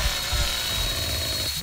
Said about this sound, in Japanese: チェーンソーオーバーヒートした